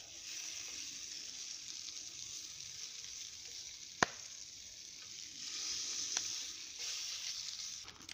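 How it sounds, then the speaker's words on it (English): Bacon sizzles and crackles steadily in a pan at a woodland camp, a soft continuous hiss with an occasional sharp pop. "the camera's picking up the sound of this bacon sizzling"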